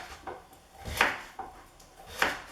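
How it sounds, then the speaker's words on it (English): Knife chopping peeled butternut squash into chunks on a board, four or five distinct thuds at an uneven pace, close and clear with no talking. "Now, just like the carrots, just want to chop it up into chunks."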